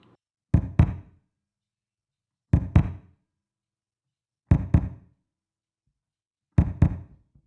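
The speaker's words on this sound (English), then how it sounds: "I have a kick drum, which tends to sound like this when I play it." Four evenly spaced pairs of dull, low thumps, each a quick double hit, with silence between them.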